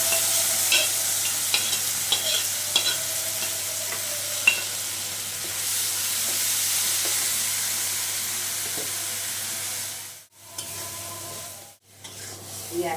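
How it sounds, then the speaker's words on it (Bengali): Water spinach stir-fried with bamboo-leaf chepa dried fish in a pan: a steady, close sizzle and hiss with scraping stir strokes, cut by two brief drops near the end, then resuming. "এখন শাকটা দিয়ে দিলাম, শাকটা অথাইয়া দিলাম"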